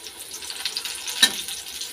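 Food sizzles and spits in a frying pan nearby, a steady crackle with a brief sharper pop partway through and no talking.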